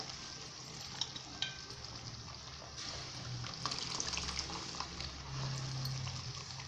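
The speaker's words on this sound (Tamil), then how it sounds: "புளி நம்ம கரைச்சி வச்சுருக்கோம், ரெடியாக கரைச்சி வச்சுருக்கோம், அதை ஊற்றிக்கலாம்" Strained tamarind water pours into a simmering Jalebi fish curry, a soft steady liquid splash and sizzle in a pan, quiet and close with no talking.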